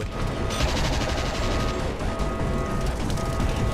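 Turrets in the Judge Dredd vs. Death video game keep up rapid gunfire mixed with explosions, a dense, continuous barrage of loud cracks and rumbling booms from start to finish.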